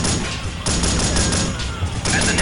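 Continuous automatic gunfire from the video game Delta Force: Black Hawk Down is loud and close. Rapid bursts of shots pound almost without pause, with brief dips in the barrage.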